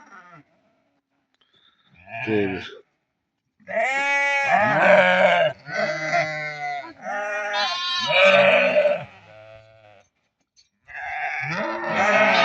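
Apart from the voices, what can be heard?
lambs bleating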